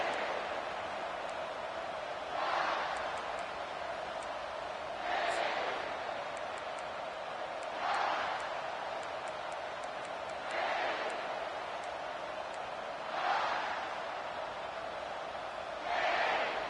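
Stadium crowd in the College Football 25 video game, a steady roar that swells in regular rhythmic waves every few seconds, loud and continuous beneath the action.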